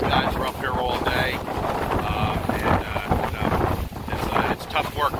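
Gusty wind roars steadily across the roof of a concrete house under construction in the Philippines, a continuous loud buffeting rush with people talking over it.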